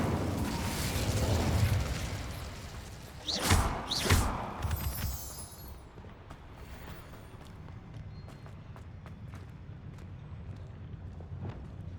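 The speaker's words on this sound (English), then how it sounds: "Revelio. Incendio." Incendio fire spell cast in Hogwarts Legacy: a sharp whooshing fiery burst with two quick flares, then fading crackle and scattered ticks over a low rumble.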